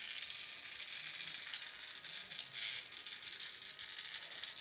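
A battery-powered toy Indian train switched on with its wheels spinning: a faint, steady whirring mechanical rattle of small gears running continuously, no voices.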